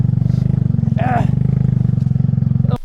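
A PG1 motorcycle engine runs steady and close on a rocky mountain trail road between Pangasinan and Zambales, with a brief clatter of rocks partway through and a sharp knock near the end.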